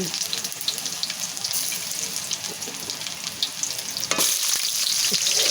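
Vegetables frying in spattering cooking oil, a dense hissing sizzle with scattered pops that jumps louder near the end as more food hits the pan.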